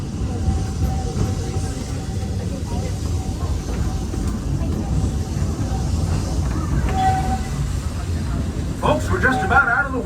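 The Walt Disney World Railroad train rolls along with a low continuous rumble and rattle of the cars, steady and fairly close, with a brief brighter clank near the end and a voice speaking over it.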